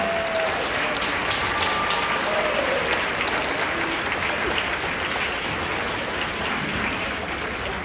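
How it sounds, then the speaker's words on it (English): A large audience at a high school concert band and symphony orchestra concert applauds steadily and loudly throughout, a continuous wash of clapping with a few faint whistles. "give one more round of applause for your performance tonight"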